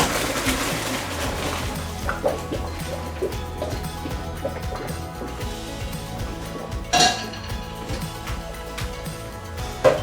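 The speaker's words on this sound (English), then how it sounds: "Strain them through the sink." Steamed dumplings drained in a kitchen sink, with clinks and clatters of a pot and utensils over running water, one sharper knock partway through and a final clink.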